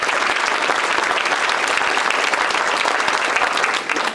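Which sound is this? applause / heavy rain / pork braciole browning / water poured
applause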